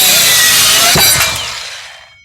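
A loud power saw cuts through wood for a wooden planter brace, a harsh close whine with a gritty bite midway, then the motor winds down and fades to silence.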